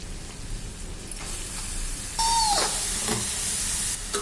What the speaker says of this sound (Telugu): ఇలా బాగా కరిగిన తర్వాత ముందుగా కట్ చేసుకున్న ఆనియన్స్ని వేసేసుకుందాం